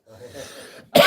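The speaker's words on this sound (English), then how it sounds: "I hear some coughing." A sharp burst of coughing breaks in at the very end, loud and close, after a stretch of quiet murmuring voices from someone nearby who is smoking.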